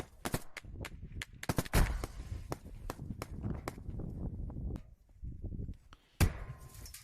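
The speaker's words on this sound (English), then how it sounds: "You can see him still firing." Rifle gunfire at a firing range, a rapid series of sharp, loud shots in irregular bursts, some closely spaced, with brief pauses and a final isolated crack.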